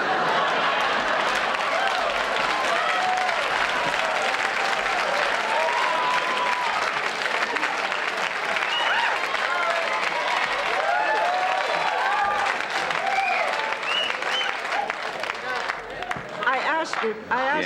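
Sustained studio audience applause on a late-night talk show, a full, even wash of clapping that holds for the whole stretch, with scattered voices and a few cheers rising above it near the end.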